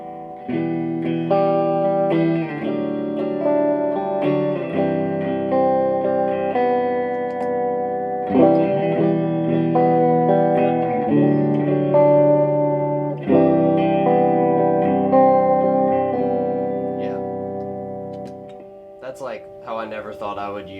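Sustained electric guitar chords played through a subtle vibrato effect ring out with a gentle wavering shimmer, changing every few seconds, ending with a few scratchy string noises.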